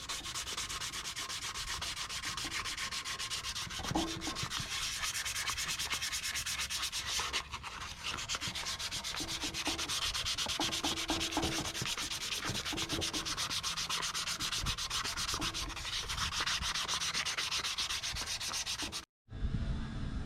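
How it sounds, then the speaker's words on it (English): Continuous abrasive rubbing of 320 grit sandpaper on a rusty metal axle-back exhaust of a 1991 Honda Civic, a steady scratchy hiss with a brief pause midway and a short break near the end, no talking. "after sanding it with 320 grit"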